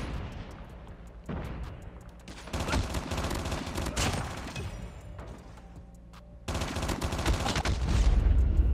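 Dense bursts of automatic gunfire from Call of Duty Mobile, including the Chicom, crackle in rapid volleys with short pauses, loud and close, swelling into heavier firing toward the end.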